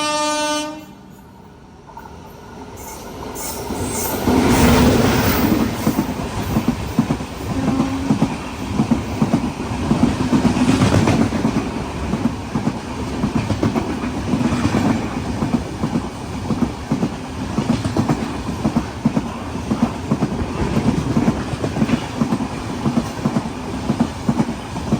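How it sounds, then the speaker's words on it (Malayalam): The Cholan Express rolls through on a single-line crossing, sounding a long horn blast at the start, then a loud, sustained rumble of wheels and wagons with rhythmic clickety-clack close by. "തിരുച്ചിറപ്പള്ളിയിൽ നിന്ന് ചെന്നൈയിലേക്ക് പോകുന്ന ചോളൻ എക്സ്പ്രസ് അതിപ്പോൾ ഇതിലൂടെ ക്രോസ് ചെയ്ത് പോകും"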